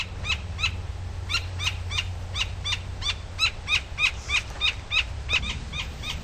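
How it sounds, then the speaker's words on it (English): A woodpecker gives a rapid series of sharp, high chirping calls, repeated in steady bursts over a low background rumble, moderately close. "Woodpecker over there that's not too happy with my presence."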